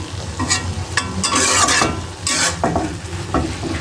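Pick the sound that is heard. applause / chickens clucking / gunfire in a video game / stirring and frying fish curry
stirring and frying fish curry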